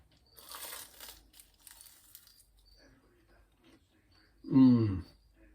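Quiet rustling and small crinkles, then a single loud crunchy bite of a puff pastry vegetable and cheese bite near the end, close to the microphone.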